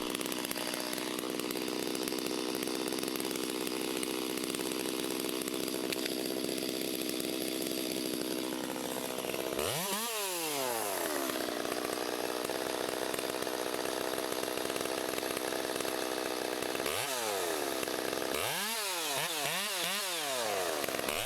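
A chainsaw runs steadily throughout as a large tree is felled, with engine pitch sweeping sharply up and down in bursts near the middle and end as the saw revs and bites into the wood, loud and close.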